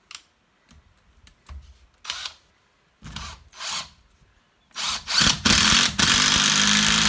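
Several short bursts of a Parkside PDSSA 20-Li A1 cordless impact driver whirring and hammering in quick succession, ending in a louder sustained run as a 12.5 x 6 screw is driven into tuff.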